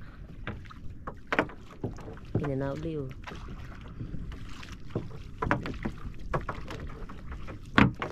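Oars work a wooden rowboat among many other boats on open water, giving soft rhythmic splashes and knocks under light wind. A voice speaks now and then, with a short hum or call partway through.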